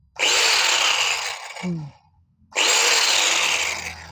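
Bosch GWS 750-100 angle grinder switched on twice: a loud, close high-pitched whine spins up, runs, then winds down with a falling hum before a brief pause and a second start.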